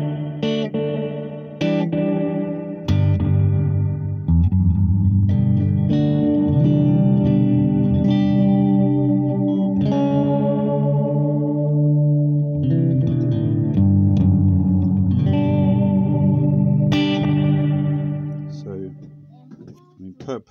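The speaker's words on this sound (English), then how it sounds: "it just leaves a gap between the note and the reverb" Electric guitar notes and chords ring out through a reverb pedal with pre-delay, a washy reverb tail blooming just after each note, sustained and layered, with no talking.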